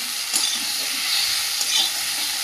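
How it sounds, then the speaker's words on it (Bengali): Vegetables sauté in a pan with turmeric, giving a loud, continuous sizzle broken by soft stirring scrapes close by. "দিয়ে ভালো করে কষিয়ে নেবো"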